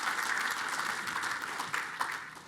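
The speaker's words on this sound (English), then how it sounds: "Give him another big round of applause, please." Applause from a conference audience welcoming the lead panellist of a payments innovation panel, a fairly faint, even wash of clapping with a few sharper claps standing out toward the end.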